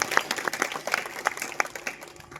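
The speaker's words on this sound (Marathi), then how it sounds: "टाळी वाजवा" An audience at a village devotional gathering claps in a brief, scattered burst of applause, sharp individual claps overlapping without a steady rhythm.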